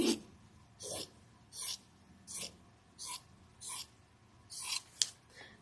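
Fabric scissors snip through yellow gingham cotton in about eight crisp, evenly spaced cuts, each a short bright rasping slice with quiet pauses between, close up, with a faint breath in the background.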